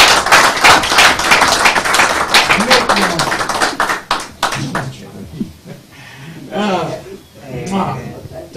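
Audience applause at a tribute concert in a royal theatre: a loud burst of clapping that fades after a few seconds, giving way to a voice speaking over the thinning hands.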